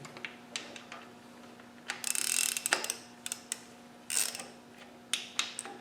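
A ratchet wrench clicks in short repeated bursts while tightening the big end nuts on a Land Rover 200Tdi crankshaft, close and crisp with brief pauses between pulls.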